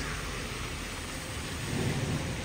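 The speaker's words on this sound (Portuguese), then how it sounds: "Deu uma pequena trovada agora." Steady rain with a low rumble of thunder rolling underneath at a beach, continuous and fairly loud, swelling slightly toward the end.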